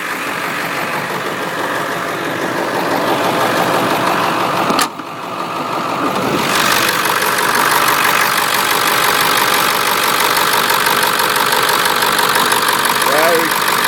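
A 1995 Ford F-250 4x4 diesel idles loudly and close by with the hood open, keeping a steady rough clatter that dips briefly and then settles again, while someone speaks over it.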